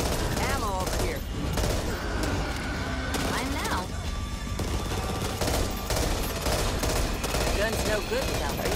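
Sustained gunfire fills a firefight in the Back 4 Blood video game, with rapid bursts and automatic fire layered over game sounds and shouted voices throughout.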